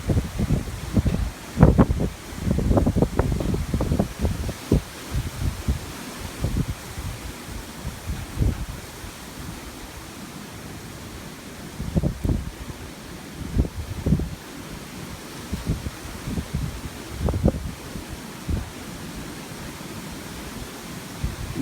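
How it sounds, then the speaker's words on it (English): Outdoor wind blows across the microphone in uneven low gusts, rumbling loudly early on, then easing into quieter intermittent buffeting with occasional stronger bursts. "It's windy though."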